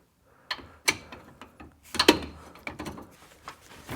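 A ratchet wrench works a 17 mm bracket screw loose on a Honda Odyssey during a wheel bearing job, heard as close, irregular clicking bursts and metallic knocks with brief pauses between strokes.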